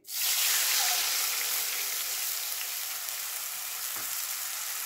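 Spiced chickpea masala for chana chaat sizzles steadily in a hot pan, a bright continuous hiss that starts abruptly and holds at an even level, with a faint stir or clink near the end and no talking.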